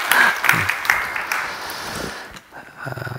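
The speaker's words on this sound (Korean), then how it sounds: "박수 한번 해주시고." A church congregation claps for an elder, the applause dense and close at first, then thinning and tapering off over a few seconds.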